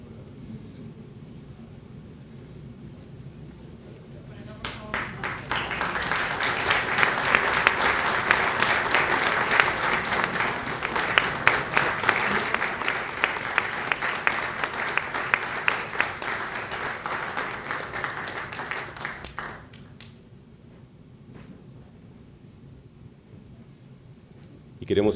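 An audience at a formal ceremony honouring a former Spanish prime minister breaks into sustained applause, swelling to a dense roar of clapping for about fifteen seconds before cutting off, with quiet room tone around it.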